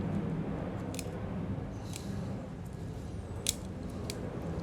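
Sharp scissor snips cut through Itoigawa juniper bonsai branches during a trimming workshop, a few crisp clicks spaced about a second apart over a steady room hum.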